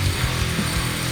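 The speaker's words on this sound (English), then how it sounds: "And then it's over to the bandsaw to cut off a rough angle of the headstock." A bandsaw rumbles steadily while cutting a rough headstock angle on a guitar neck blank, a close, loud, continuous buzzing drone over about a second with no talking.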